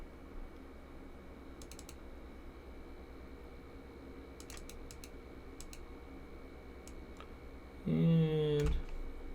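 Light keyboard typing clicks in scattered bursts over a low fan hum, then a louder warbling tone rises briefly near the end.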